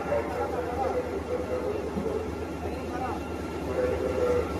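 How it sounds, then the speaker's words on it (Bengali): A train engine and carriages rumble steadily at a station, a low continuous hum and clatter heard beneath nearby chatter and talking throughout. "ফাইনালি আমাদের ইঞ্জিন চলে এসেছে ট্রেনের।"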